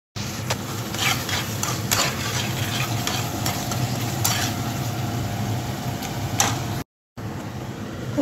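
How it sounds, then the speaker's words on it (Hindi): Macaroni pasta with sauces, pasta masala and spices is stirred in a hot pan, producing a close, continuous sizzle under repeated scraping strokes of a spoon. A brief gap of silence falls near the end. "और अब इन्हें अच्छी तरह से मिक्स कर देती हूँ।"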